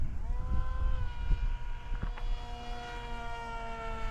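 A small FF-35V2 RC model airplane spinning a 7-inch propeller flies past, its steady motor whine holding a rising and falling pitch over several seconds against faint wind, with no talking.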